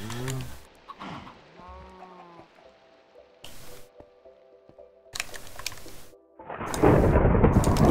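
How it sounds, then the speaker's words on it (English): Thunder in the video game Minecraft, a loud rumbling roll building near the end after scattered game sounds and farm animal bleats. "Ooh, thunder."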